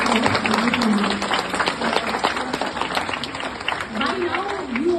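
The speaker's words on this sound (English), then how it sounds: "a big round of applause for everybody" A school summit audience breaks into a big round of applause, dense sustained clapping with cheering voices mixed in and a person speaking over the crowd throughout.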